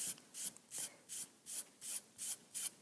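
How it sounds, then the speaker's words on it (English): A foam brush strokes red paint onto wood in seven even back-and-forth swipes, soft close rubbing sounds in a steady rhythm. "I'm just going to take a foam brush and I'm just going to paint red onto my"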